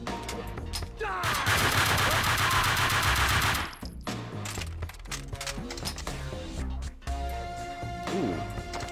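Sustained loud automatic gunfire from a Max Payne 2 shootout, a dense burst lasting a few seconds, then scattered shots and clatter continuing in the game's combat.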